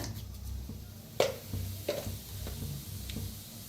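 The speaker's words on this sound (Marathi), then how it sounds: "आता त्याच्यात टाकूया अर्धा चमचा मोहरी, अर्धा चमचा जिरा" Mustard seeds and cumin land in hot mustard oil, giving a faint, soft sizzle broken by a few sharp crackles and pops, with no talking over it.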